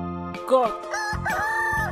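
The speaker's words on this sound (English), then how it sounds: "Cock." A single rooster cock-a-doodle-doo rings out loud and close, its rising and falling call filling most of the short stretch, set among animal sounds in a mystery animal game.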